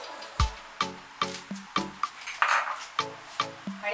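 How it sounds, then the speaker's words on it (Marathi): Crushed caramel is tipped into a butterscotch ice cream mixture, giving about ten light, close clinks and taps of a spoon on a bowl at a steady, unhurried pace, with no voices. "आता जे आपण कॅरमेल केलेलं आहे त्याचा चुरा आपण यात घालूया"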